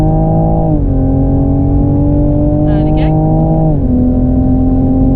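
A Toyota Supra prototype accelerates hard around the Jarama race circuit, its engine tone climbing, dropping at each upshift and rising again, loud and close from inside the car, while someone speaks briefly over it.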